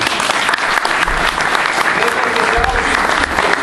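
An audience at a meeting claps in sustained, dense applause, loud and close, filling the room from start to finish without pause.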